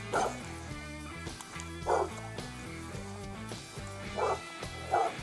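A dog barks repeatedly, sharp bow-wow yips spaced about every second or two, fairly close, over a low continuous background hum.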